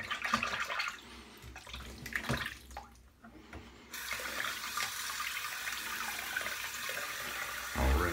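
Tap water runs steadily into a sink while a razor is rinsed, a soft continuous splash that thickens midway and ends with a brief louder gush.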